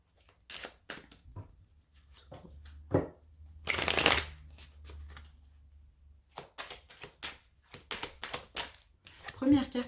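Osho Zen tarot cards are shuffled and drawn by hand, with a run of crisp riffling bursts and sharp flicks and taps, close up against a quiet room.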